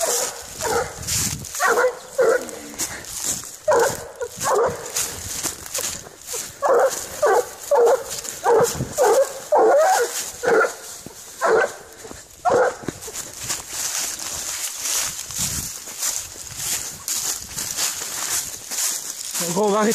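A 13-month-old Gascon hound bays and barks outdoors in repeated loud bursts. Whimpers and a voice come in between the barks.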